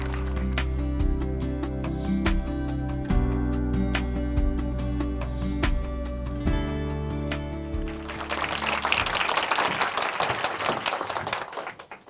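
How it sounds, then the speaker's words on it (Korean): Sustained music plays for several seconds, then a church congregation in Chuncheon bursts into broad, hearty applause to welcome a woman stepping up to share her testimony; the clapping swells and fills the last few seconds. "큰 박수로 모시겠습니다"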